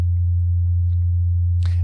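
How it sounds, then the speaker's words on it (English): A low, steady sine wave tone played through a limiter plugin drones loud and unbroken the whole time, with a brief faint noise near the end. "I have a low sine wave tone that I'll play through this plugin"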